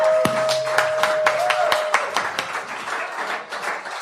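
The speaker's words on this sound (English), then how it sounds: "I think that's worth clapping for" An audience claps in scattered, uneven bursts that thin out over several seconds, heard fairly close with no talking.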